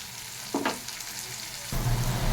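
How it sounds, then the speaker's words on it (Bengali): Ginger-garlic paste, tomato, salt and ground spices being sautéed in a pan with potatoes, a steady sizzling hiss with a brief stirring scrape, and the frying swelling louder near the end. "ভালো করে মশলাটা কষিয়ে নেব।"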